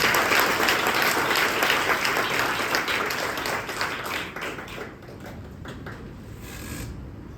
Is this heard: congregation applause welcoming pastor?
yes